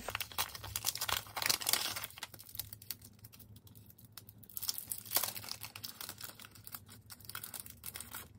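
Packaging of a Planner Society sticker kit being opened, with close crinkling and tearing of wrap and papery rustles, loudest at the start and again toward the end, no talk.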